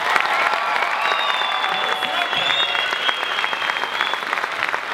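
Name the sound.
audience applause for dance students at end of show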